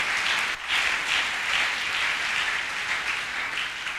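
A church congregation applauds in a steady, dense wash of clapping that holds at even loudness throughout, with a brief dip near the start.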